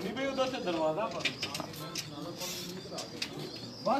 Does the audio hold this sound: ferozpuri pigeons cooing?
yes